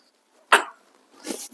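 A single sharp cough bursts out, then a second rougher cough-like exhalation follows a moment later, close and fairly loud in a quiet room.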